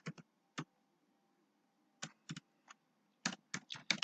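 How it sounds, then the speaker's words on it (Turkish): Short bursts of computer keyboard typing, clustered key clicks separated by brief pauses, close and fairly quiet, with no voices, as text for an Excel link is entered. "İçerisine yazı yazıyorum."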